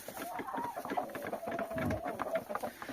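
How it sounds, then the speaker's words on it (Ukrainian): Hens cluck and mutter softly at close range in a winter coop, short calls overlapping now and then. "А тут одна ще куткудача хоче до неї лізти."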